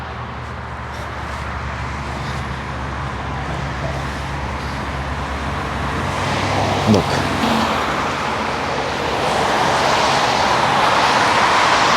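Road traffic rolls past near a highway on-ramp, a steady broadband wash of passing cars that swells toward the end, with a brief louder pass midway and a voice speaking briefly over it.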